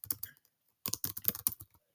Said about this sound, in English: I'm still going to keep typing so it's better than my writing